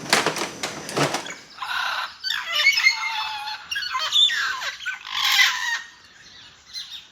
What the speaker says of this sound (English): Got a little sunrise hello from our local parrots.